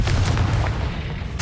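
Confringo explosive spell cast in a Hogwarts video game, a dense, booming blast that rumbles low and steady for over a second before a sharp bright burst at the end.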